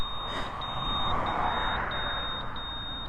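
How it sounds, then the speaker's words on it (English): A Honda motorcycle's electronic alarm sounds faintly as a thin, high-pitched tone with a pulsing beep pattern. It sits over a steady wash of background hiss for about three seconds. "Let's set the alarm off, shall we?"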